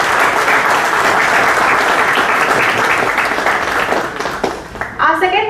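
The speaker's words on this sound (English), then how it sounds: "Let's give a huge round of applause for Mr." Audience applause at a business school startup conclave panel, a dense sustained wash of clapping filling the hall for several seconds before thinning near the end as a voice begins to speak.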